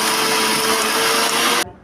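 A mixer grinder whirs at full speed, loud and steady, while grinding roasted urad dal, chana dal, coriander seeds, cumin, garlic and salt for a bitter gourd garlic spice powder, then cuts off abruptly.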